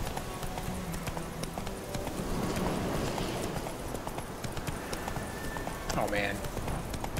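A horse gallops in The Witcher 3, rapid rhythmic clip-clop hoofbeats running throughout under a player's talk, with a brief whinny-like cry near the end.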